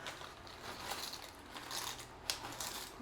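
Lay's potato chips tip into beaten egg in a hot pan, making a close, continuous crunchy crackle and rustle with a few sharper crisp snaps.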